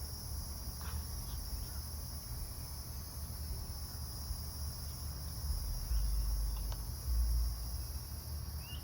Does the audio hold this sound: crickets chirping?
yes